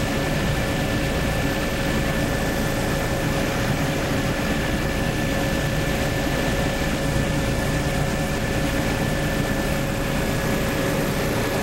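Light aircraft engine droning steadily in flight during a low aerial survey at about 70 knots and 300 feet, a constant loud hum with a steady tone, with no talk.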